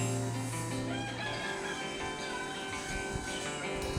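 Pet chickens at a home coop, a steady backdrop of hens clucking with a rooster crowing through it, fairly close and continuous with no talking.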